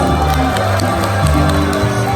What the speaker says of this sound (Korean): 박수 보내주